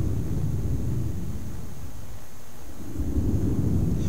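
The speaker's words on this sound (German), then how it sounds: "Diese Blitze markieren die Barriere und können ab und zu mal auftauchen." Low rumbling thunder from lightning along the magical Barrier in the game Gothic, a steady deep roll that dips briefly midway and swells again, loud and continuous with no voices.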